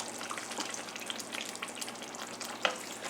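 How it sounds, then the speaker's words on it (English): Brown gravy simmers in a pan with a steady, soft crackling sizzle and faint bubbling throughout, plus one brief louder click near the end, with no talking. "I'm going to go ahead and let that simmer a few more minutes"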